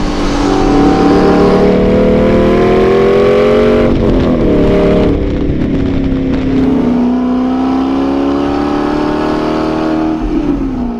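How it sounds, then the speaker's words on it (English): A 2012 Aston Martin V8 Vantage engine revs loud and close, its V8 roar rising and falling in sustained, throaty pulls with no talking. "I like the sound of this V8 better than the V12"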